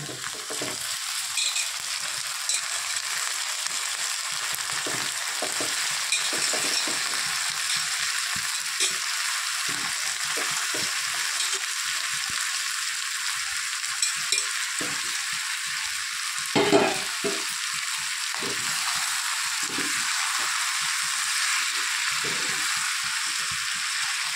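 Meat sizzles in a hot pan while being cooked for a Kabuli roll, a constant close frying hiss running throughout with occasional stirring knocks and scrapes, no talk.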